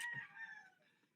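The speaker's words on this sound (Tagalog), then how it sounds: "Ipagsabayan pa yung mga manok." A rooster crows nearby over a short burst of chicken clucking, heard alone with no talk and fading toward the end.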